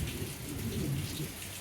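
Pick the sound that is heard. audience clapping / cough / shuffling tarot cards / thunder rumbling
thunder rumbling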